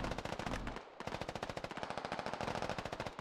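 Rapid automatic gunfire in a first-person shooter video game, long bursts of evenly spaced shots with a brief pause near the start, loud and close with no voices.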